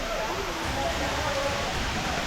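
Konai Falls, with water dropping about 40 feet, gives a steady, dense rushing hiss that runs unbroken through the whole moment, close and fairly loud.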